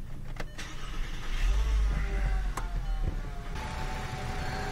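A Volkswagen 2.5-litre engine cranks over during a starter test, a steady low churning motor sound lasting several seconds with faint clicks, heard alone without talk.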